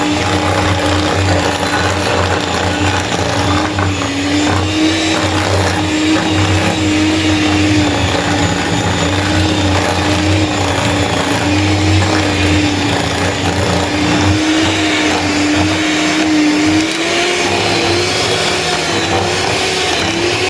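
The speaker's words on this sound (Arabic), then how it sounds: "غادي نحيدو الخلاط الكهربائي" An electric mixer runs steadily, blending flour into cake batter for a Black Forest birthday cake, with a constant motor whine and a loud, unbroken whirr lasting the whole stretch and no talking.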